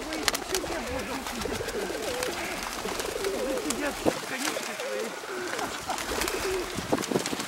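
Pigeons coo repeatedly at close range in Leninsky Park in Khabarovsk, with soft rolling calls overlapping throughout, while people talk nearby and small clicks and flutters come through.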